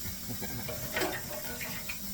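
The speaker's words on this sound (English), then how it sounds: "If you can hear that over there, it's starting to steam." Hot hamburger mixture in a cup gives off a steady, soft hiss of steam with faint sizzling crackles, close by and continuous with no talking.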